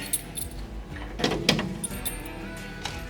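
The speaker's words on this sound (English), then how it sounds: "I got keys!" Keys to an abandoned 1966 Datsun 520 pickup jangle in a few short metallic bursts, close by and moderately loud, with a brief rustle in the middle and no talking.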